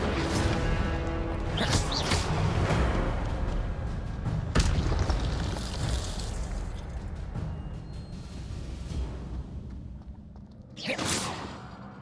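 Incendio fire spell cast in the Hogwarts Legacy video game, a sustained roaring whoosh of flame with booming impacts, loud and close, fading out before a final burst near the end.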